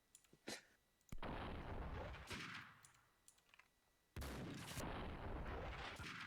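Gunfire in the video game Max Payne 2, sharp sudden blasts with loud booming bursts that ring and decay, separated by quieter gaps with small clicks.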